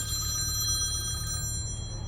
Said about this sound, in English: this dude got the old school ringer on